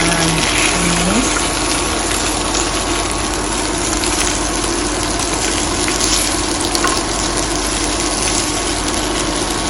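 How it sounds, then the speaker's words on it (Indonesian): Food sautéing in a pan gives a steady, loud sizzle and hiss that runs continuously throughout, with a faint mechanical hum beneath and no talk. "kita akan tumis."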